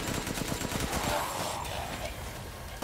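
Rapid bursts of gunfire in a shooter video game crackle densely and steadily throughout, close and loud, with a frustrated voice briefly speaking over the shots.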